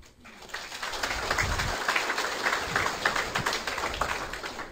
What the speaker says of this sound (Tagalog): Thank you sa mga pumapalakpak.